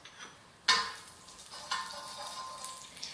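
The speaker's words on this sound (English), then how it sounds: "I'm going to be adding in some coconut oil first." Coconut oil added to a hot pan for a Middle Eastern za'atar cauliflower dish: a sudden sharp hiss when the oil hits, then a softer sizzle with faint crackles and ticks that continues quietly.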